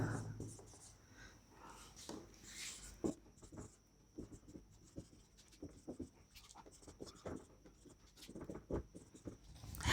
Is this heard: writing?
yes